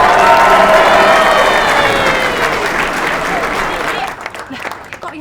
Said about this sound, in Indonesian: Kok yang tepuk tangan banyak banget